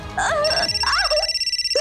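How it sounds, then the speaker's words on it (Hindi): A telephone ringtone chimes loudly and close in a Hindi TV drama scene, a warbling electronic melody repeating over about two seconds with no talk over it. "तेरे दुश्मन का फोन भी आ गया।"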